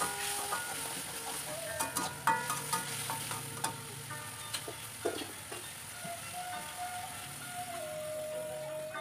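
Spice paste is stir-fried in a pan, with a soft steady sizzle under scattered clinks and scrapes of a spatula against the pan at close range, and nobody talking.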